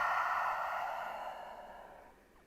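A long, deep breath out through the nose during a yoga flow, a soft airy rush that gradually fades, heard close and alone.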